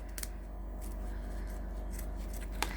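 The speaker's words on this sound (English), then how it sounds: "I've got a pair of scissors that I usually use for these heavy zips, and all you're going to do is you're just going to cut that off." Heavy scissors snip through a heavy zip during bag sewing, giving a few short, close, quiet cuts over a steady low hum with no talking.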